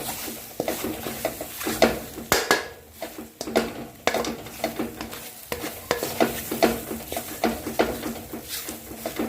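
Eggs stirred in a pan for egg, spinach and chorizo fried rice, with repeated utensil scrapes and clinks over a steady close sizzle, no talking.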